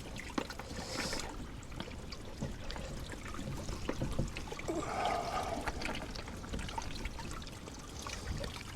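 Plain water rinsing through the cooling system of a Mercedes W201 190D outdoors in the rain, a steady wash of trickling and splashing with no pauses, close and moderately loud.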